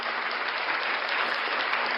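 Brief, steady applause with dense clapping at an even, moderate level and no voices.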